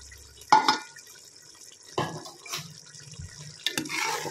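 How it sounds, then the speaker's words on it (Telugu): Water splashes and pours in short bursts into a pot, with a few clinks of a vessel in between, fairly close and with no talking. "ఇందులో ఇంకొంచెం వాటర్ యాడ్ చేసి ఇందులో వేసేస్తాను"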